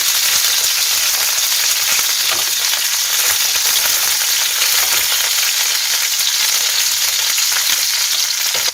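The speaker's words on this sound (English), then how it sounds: "The chicken are frying." Steady, loud sizzling and crackling of food frying in a pan, continuous and even throughout with no talking.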